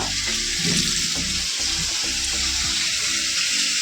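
Running tap water splashes in a sink while a glass pickle jar is washed, with a steady hiss and occasional clunks and rubbing of the jar, close and continuous, no talk.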